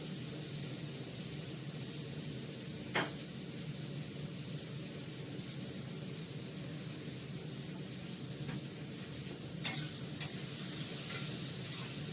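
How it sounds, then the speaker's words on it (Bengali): Potato and onion fry in a pan on a home stove, a steady soft sizzle with a few faint stirring scrapes and clinks, close and without talk. "দেখো আলুটা পেঁয়াজটা দিয়ে দিলাম, একটু ভাজা ভাজা করে নিই"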